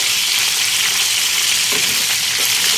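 Tilapia frying in hot oil, a steady close crackling sizzle with a few soft scrapes of stirring, outdoors while it rains.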